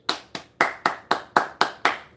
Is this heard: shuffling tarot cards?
no